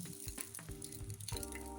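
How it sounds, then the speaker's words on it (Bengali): Mixed vegetables, including carrot and cauliflower, fry in a covered pan with a soft, steady sizzle, overlaid by intermittent humming tonal sounds. "সব সবজি দিয়ে ঢাকা দিয়ে ভেজে নিব"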